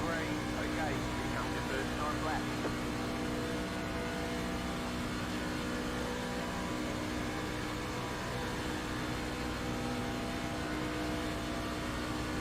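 A race car engine in the iRacing sim hums and whirs steadily throughout at moderate level, with a constant droning texture and no clear shifts.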